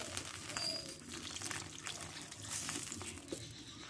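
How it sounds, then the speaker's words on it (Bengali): Hot water is poured into a pan of spiced potatoes for a Bengali fish curry with ridge gourd, a close, continuous splashing and trickling that runs steadily for a few seconds with no talking. "এবার কিছুটা আমি গরম জল এখানে অ্যাড করবো"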